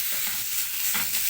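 Chicken pieces sautéing with sauce in a hot pan, a steady bright sizzle with a couple of soft stirring scrapes, close and moderately loud, no voices.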